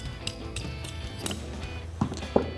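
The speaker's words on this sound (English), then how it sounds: "So now I'm gonna spin my lock collar down." A threaded lock collar spun down by hand on a MonoSS coilover for a 2011-2023 rear-wheel-drive Dodge Charger, close metallic ticks and light clunks at an irregular pace, with a couple of sharper knocks near the end and no talking.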